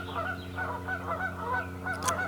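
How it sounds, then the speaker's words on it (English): Geese honk repeatedly in the background outdoors, a continuous overlapping chorus of nasal calls heard at a moderate distance over a steady low hum. "are we really doing a formal academic thing with those geese in the background?"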